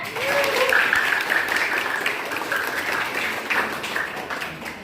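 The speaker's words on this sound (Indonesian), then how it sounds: "Berikan aplaus dulu semuanya." A classroom of students applauds together during a civics lesson on Pancasila, a steady burst of dense clapping lasting several seconds before thinning slightly toward the end.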